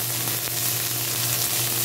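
Onion fries in hot cooking oil with a loud, dense, continuous sizzle, close up and unbroken.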